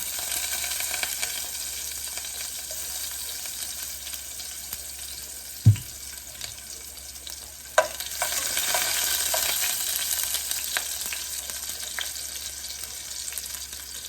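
Mustard seeds of two colours and garlic sizzle in hot oil, a steady bright crackling hiss that runs throughout, broken by a couple of sharp knocks or clatters near the middle.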